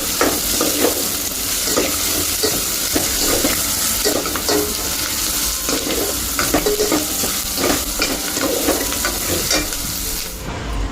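Sabzi sizzles and fries loudly in a pan on a home stove with water poured in, giving a continuous crackling hiss broken by scraping stirs, close and prominent with no talking.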